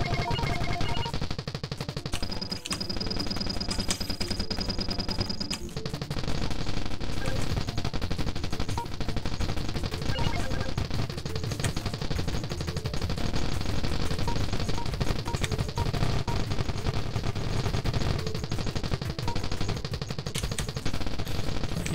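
Enemies fire bullets in the game Rainbow Bullet, heard as a dense, continuous barrage of rapid gunfire-like shots, loud and sustained across the whole stretch with a brief high electronic tone early on, and no talking.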